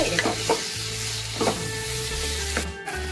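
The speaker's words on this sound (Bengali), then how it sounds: "দিয়ে আমি ভালো করে কষিয়ে নেব যতক্ষণ না তেলটা ছেড়ে দেয়" Spice masala with sugar sautéed in hot oil for a Bengali fish curry, a steady sizzle broken by several scraping stirs of the spatula, close and fairly loud, with no talking.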